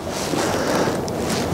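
Cold wind gusts across an outdoor camp cooking site, a steady rough rumble buffeting the microphone, fairly loud, with no voices.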